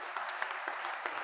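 A church congregation applauds with soft, steady clapping that sounds somewhat distant and fills the whole short moment.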